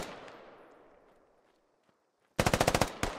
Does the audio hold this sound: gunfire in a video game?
yes